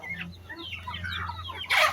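Bisaya chickens cluck steadily at close range while being fed, making short soft calls over a low background hum, with a sharper, louder burst near the end.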